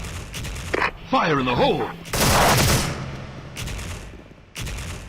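Shotgun blasts ring out in a video game as a few loud, sharp bursts spaced apart, with a voice calling out over the action.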